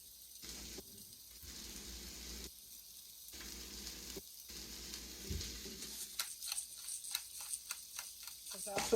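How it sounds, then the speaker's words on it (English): Steak searing in a hot pan, a steady close sizzle and crackle with bursts of spattering and stirring toward the end, no voices over it. "If you're cooking steak, you always want to hear that sear."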